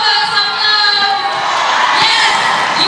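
A home crowd at a SEA Games netball final between Malaysia and Singapore cheers loudly and steadily, a dense roar of shouts and whoops filling the whole stretch with no break.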